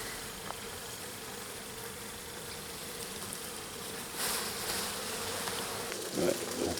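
Honey bees from a small late swarm being rescued in Nuits-sur-Armançon hum faintly and steadily nearby, a soft continuous buzzing with a slightly louder swell toward the end.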